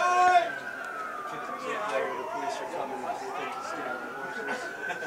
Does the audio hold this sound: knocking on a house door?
no